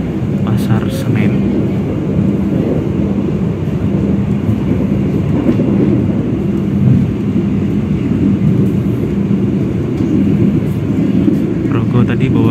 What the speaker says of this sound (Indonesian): Ada kereta Progo dari Lempuyangan ke Pasar Senen.